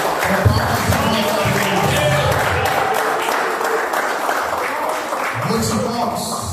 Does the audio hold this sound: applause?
yes